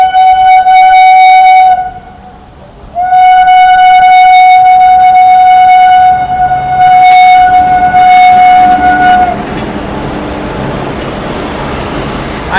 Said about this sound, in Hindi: आई थिंक मालगाड़ी है।